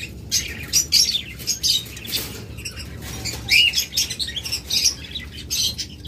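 Red-eye pet birds in a bird shop give bursts of high, busy chirps and tweets, fairly close and overlapping in quick clusters over a low background murmur, with no one talking.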